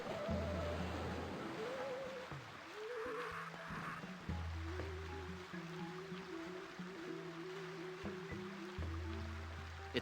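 Steady rushing water of a waterfall in the adventure game The Curse of Monkey Island, a faint continuous wash running under repeating background game music, with no talking.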